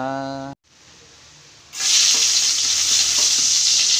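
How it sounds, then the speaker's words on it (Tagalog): Marinated beef for menudo hits the hot pan with a sudden loud, steady sizzle that fills the rest of the moment. A brief tonal sound and a short silence come just before it. "Pwede na natin igisa ang ating minodong baka. Igisa na natin siya."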